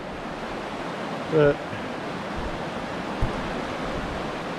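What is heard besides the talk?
floodwater flowing fast across a road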